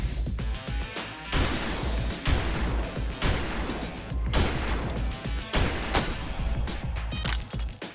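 M26 Modular Accessory Shotgun System combat shotgun firing, a series of about five loud, booming shots at roughly one-second intervals, close and sharp with decaying echoes.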